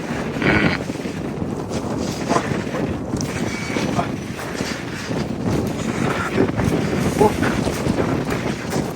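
Strong wind blows outdoors in London, buffeting the microphone with a steady gusty roar that rises and falls, while a person talks intermittently under it.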